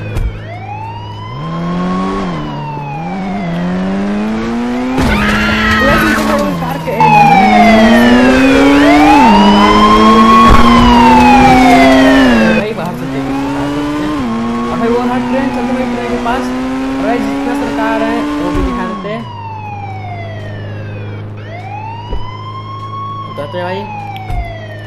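Police car siren in a video game, loud and close, wailing up and down across the whole stretch over engine noise, with a second siren tone joining midway.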